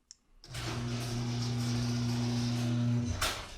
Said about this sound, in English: So the next time you hit the button, the garage door goes open.